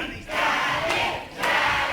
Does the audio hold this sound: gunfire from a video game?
no